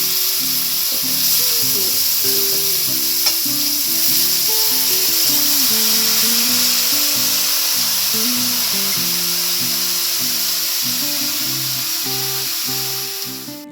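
Radish frying in a hot pan, a loud steady sizzle and hiss holding evenly for over ten seconds, with soft background music and no talk over it.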